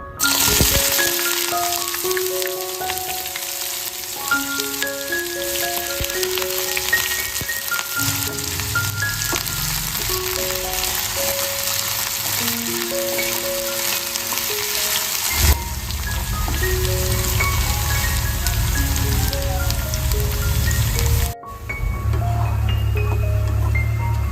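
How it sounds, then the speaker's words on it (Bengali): Two medium onions, finely chopped, fry in hot oil to make birista for a prawn bhuna, giving a steady, close sizzle that runs through the whole stretch beneath continuous background music. "এইটা আমি তেলের মধ্যে দিয়ে নেব নিয়ে আমি বেরেস্তা বানিয়ে নেবো"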